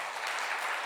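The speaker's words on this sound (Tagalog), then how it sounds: "Wala bang palakpak sa Lord?" A church congregation applauds, a brief burst of dense, steady clapping filling the room at moderate volume.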